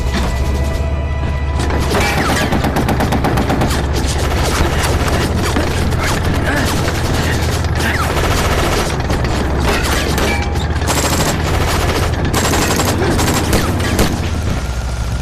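A war film battle scene with artillery and gunfire: dense, loud, continuous volleys of shots, booms and mechanical clatter overlapping throughout with no pause.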